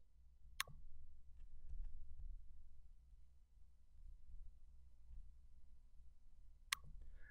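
Two sharp computer mouse clicks, one early and one near the end, stand out against a faint low room hum while managing Power BI report access permissions.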